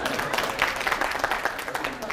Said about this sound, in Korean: 박수 한번 쳐 얼른.